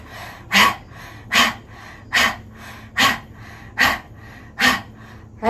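Seven forceful, evenly spaced exhales push out about every three-quarters of a second during a fire breathing exercise, loud, close and breathy, each a short sharp rush of air with quiet gaps between.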